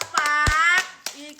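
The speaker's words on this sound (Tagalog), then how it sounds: "Palakpak!" A few sharp hand claps ring out in a short burst during a lively live-stream gift-opening. They mix with a voice and other people talking close by.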